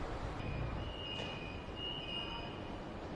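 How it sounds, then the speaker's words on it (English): A Beijing subway train creeps slowly into a platform, with a steady low rumble, faint wheel squeals and thin high tones over the even background noise. "Here comes the train at the slowest possible speed."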